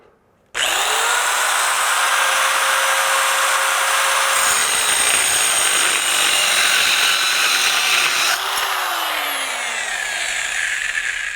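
A small handheld flooring saw cuts through 3/4-inch oak, giving a loud, close, continuous high whine and grinding rasp. Its pitch drops as the blade slows under load partway through, then recovers.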